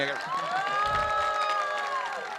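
A conference audience bursts into applause and cheering, with whoops rising over a sustained crowd roar, while a voice carries on a drawn-out sung or spoken line on top.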